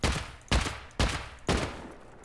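Four evenly spaced, sharp, loud bursts of explosive-ammo fire from an AK rifle in the survival game Rust, each blast followed by a short ringing decay, about half a second apart.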